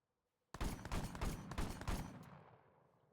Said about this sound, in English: this is the new M4 shotgun